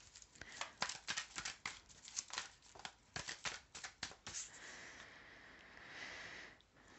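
Tarot cards are shuffled, tapped and set down on a surface in a quick run of soft, close crisp flicks and taps, followed by a quieter stretch of faint handling.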